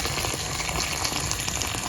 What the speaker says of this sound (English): I'll go ahead and add some water now because we really need to cook this